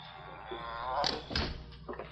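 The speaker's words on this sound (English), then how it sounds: "Come inside and close the door behind you." A shack door swings shut in an old radio drama, a creak followed by a couple of muffled wooden thunks, close but fairly quiet.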